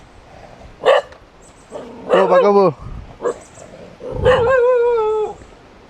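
Dogs bark and yelp nearby in short bursts, mixed with someone shouting at them; a few whiny, drawn-out yips stand out.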